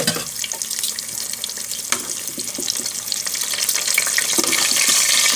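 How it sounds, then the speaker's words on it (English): Seasoned French fries cooking, a steady broadband sizzle and hiss that grows slightly louder and denser over the few seconds, with a few faint clicks and no talking. "let me do something about these fries that are cooking up"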